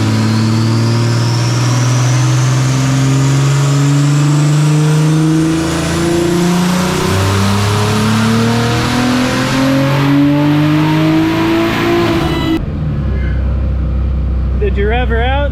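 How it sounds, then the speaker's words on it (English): A BMW B58 engine, built toward 1000 hp, revs hard and climbs through the range on a run, loud and rising, before cutting off sharply with voices talking afterward. "Did you rev her out?"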